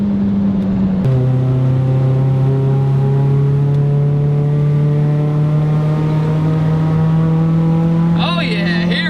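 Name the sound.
Ford Focus SVT engine accelerating through the gears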